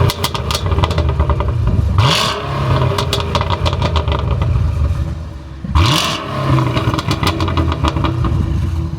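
Cadillac CT5-V Blackwing V8 with stock exhaust revving loudly and close, two sharp throttle blips rising and falling over a rumbling idle with crackling burbles in between.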